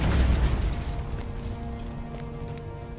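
A siege weapon breaks apart in Lord of the Rings Online, Mines of Moria: a loud booming crash at the start that decays into a lingering rumble and fading tonal ring.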